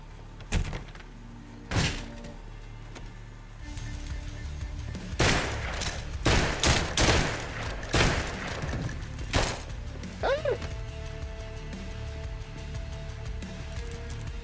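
Repeated bursts of gunfire from the top-down shooter game Intravenous 2, loud sharp shots in scattered clusters with quieter gaps and a few mechanical clunks between them.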